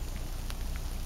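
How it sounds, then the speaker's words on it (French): Rain falling outdoors in the countryside, a steady soft wash of drops with no talk over it. "Il pleut."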